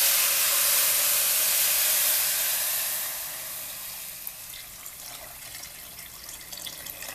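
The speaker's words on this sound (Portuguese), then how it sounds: "deixa eu acertar aqui para mostrar para você a quantidade que nós vamos colocar de água" Water pours steadily into a pot of rice, a loud rushing hiss for about three seconds that then tapers off into quieter trickling and faint drips, with no talking.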